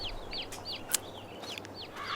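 Chickens in Farming Simulator 22 give short, faint chirping clucks in a quiet farm setting, several brief calls scattered over a couple of seconds with no talking.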